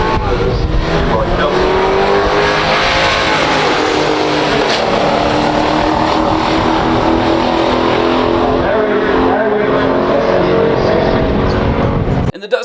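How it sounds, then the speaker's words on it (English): Two 1971 muscle cars, a Duster 340 and an AMC Hornet SC/360, drag racing on a strip: sustained loud engine roar and revving throughout, with a harsh wash of exhaust and tire noise, dropping out abruptly at the very end. "Let's see what they can do on the drag strip."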